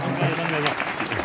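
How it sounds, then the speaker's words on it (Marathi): A brief burst of crowd applause at a kirtan gathering, dense and continuous, with a voice speaking over it throughout. "यानंतरचा टाळ्या सगळ्यांनी वाजवायचा साऊंड सिस्टीम वाल्यासाठी"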